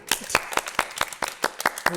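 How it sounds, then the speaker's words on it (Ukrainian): Audience applause for a guest, a university rector, at a live agricultural talk show: a short burst of quick, crisp claps at a steady rhythm, with a voice under it near the end. "давайте більше оплесків"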